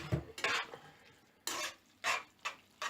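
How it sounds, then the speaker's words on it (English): Spaghetti carbonara being stirred with egg and cheese in a pan: a short run of clinking, scraping utensil strokes against the pan, arriving in separate bursts with quiet gaps between them, close and fairly soft. "In goes the egg. We'll just stir that in."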